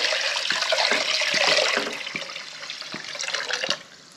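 Water pours steadily into a pot with a rushing, splashing sound that gradually softens, with a few light clinks of the vessel, close by and without talk.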